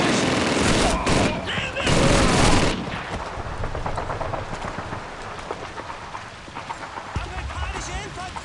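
Rapid machine gun fire in Call of Duty 2 rattles close and loud in dense bursts, then continues as scattered lighter shots while voices talk over the battle.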